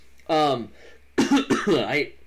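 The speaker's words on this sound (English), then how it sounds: "I can't seem to stop coughing" A single burst of coughing, close and loud, followed by a short stretch of someone talking.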